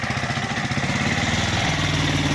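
A vehicle engine runs steadily nearby, a loud, rough, pulsing idle that holds constant throughout the short stretch with no talk over it.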